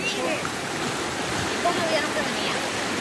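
Rising floodwater on a river surges past in a steady broadband rush, continuous and close, with faint bits of speech mixed into the flow.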